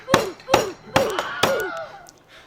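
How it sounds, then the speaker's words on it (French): A hammer strikes a bag of ice four times in a steady rhythm, crushing it; each blow is a close, sharp clang with a brief ringing tail, the later hits followed by fainter crunching. "tu prends ton marteau de Thor et tu défonces ton sachet pour faire de la glace pilée"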